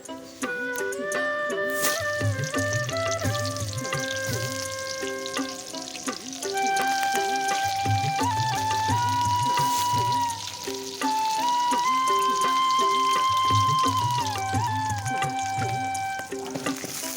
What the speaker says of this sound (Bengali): তেলের মধ্যে পেঁয়াজ দিয়ে পেঁয়াজটা লাল লাল করে ভাজা হয়ে গেছে